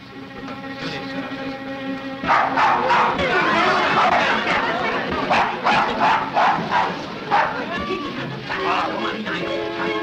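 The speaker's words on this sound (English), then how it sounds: "will you kindly take that dog out" A dog barks in repeated sharp yaps in a 1936 film scene, close and loud over a steady background hum, with people talking around it.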